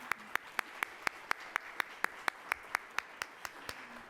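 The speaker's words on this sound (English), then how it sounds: "So let's give them a round of applause." Applause for sponsors at a Columbus Metropolitan Club forum comes through as evenly spaced single claps, about four per second, fairly faint against a quiet room.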